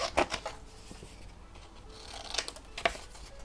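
Scissors snipping scrapbooking paper scraps, a few crisp close cuts near the start and two more toward the end, with soft paper rustle in between.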